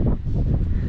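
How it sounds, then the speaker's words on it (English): Wind blowing high on a mountain trail near the Grinnell Glacier overlook, a rough low buffeting rush against the microphone lasting about a second, with no speech. "it's starting to get pretty windy up here"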